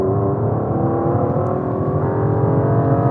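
Aston Martin V12 Vantage with a 690bhp V12 pulling hard, a steady, smooth, mid-pitched engine hum heard from inside at constant loudness with no voices.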